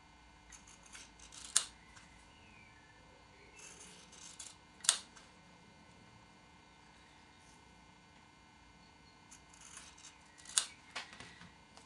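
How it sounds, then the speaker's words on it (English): Scissors snip along the edge of a freezer paper square ironed onto patchwork fabric, giving a few sharp, isolated cuts spaced seconds apart over a quiet room hum. "simply using my scissors, I cut along the edge of the freezer paper square"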